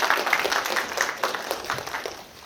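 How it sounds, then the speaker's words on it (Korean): Audience applause in a lecture hall at an admissions strategy seminar, a fairly faint, steady patter of many hands clapping that fades out toward the end. "여러분 큰 박수 부탁드리겠습니다."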